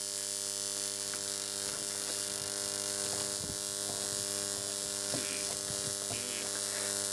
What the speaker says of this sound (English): Nice arcs these transformers make there.